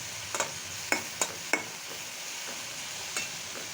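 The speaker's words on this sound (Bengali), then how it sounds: "প্রথমে আমি পেঁয়াজটা ভেজে নিচ্ছি।" Onions frying in a pan for vegetable pasta, a steady sizzle broken by a few sharp clinks of a spoon stirring against the pan, close and without talking.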